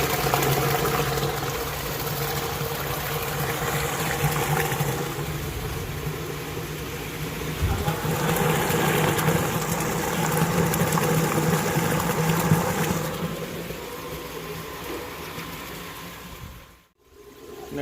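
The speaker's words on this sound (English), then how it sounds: "the water will pour back into the pond through these two pipes." Water pours steadily from two pond filter pipes back into a pond with a constant rushing, splashing wash close by. No talking.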